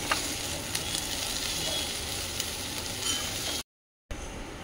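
Thankuni leaves and potato fry in a pan, a steady close-up sizzle with occasional stirring clicks, then a brief cut to silence before the frying resumes.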